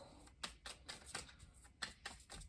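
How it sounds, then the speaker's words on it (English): Soft papery riffling in quick bursts, a tarot card deck being shuffled several times close by, with no talking. "Let's do a little shuffle here."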